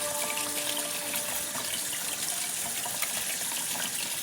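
Tap water runs steadily into a sink during washing, a continuous close hiss and splash that holds at an even level throughout, with no talking.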